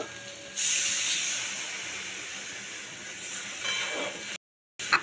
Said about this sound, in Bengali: আর দেব লবণ জল ঢেলে দেব